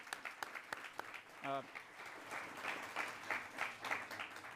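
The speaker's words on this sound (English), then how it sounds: "Let's give him a round of applause." A small audience applauds a special guest at a talk. The clapping is quiet and somewhat sparse, with a few sharp claps early on and a brief voice-like sound partway through.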